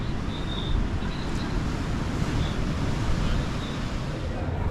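Rough, wild sea waves surge and break at Chania on Crete, a loud, dense roar of surf mixed with wind buffeting the microphone, steady throughout and with no voices.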